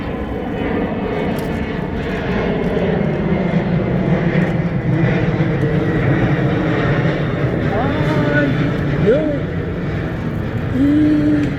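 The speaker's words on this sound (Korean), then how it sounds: "이 위로 비행기가 다니니까 소음이 심하네요" Airplane passing overhead, a loud continuous roaring engine drone that fills the whole stretch, with faint speech-like sounds and a few rising tones mixed under the noise.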